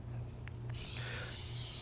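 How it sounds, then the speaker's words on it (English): Food release spray hisses out steadily onto dough trays, beginning abruptly partway through and continuing close up over a low background hum. "You're going to take the dough trays and spray them with your food release spray."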